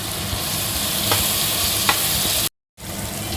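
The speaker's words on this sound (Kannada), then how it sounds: "ಟೊಮೆಟೊ ಹಣ್ಣು ಹಾಕಿದ್ದೀವಿ. ಸ್ವಲ್ಪ ಫ್ರೈ ಆಗಲಿ." Tomatoes and turmeric fry in a pan for palav, giving a steady loud sizzle with occasional stirring scrapes, broken by a brief cut to silence before the sizzling resumes.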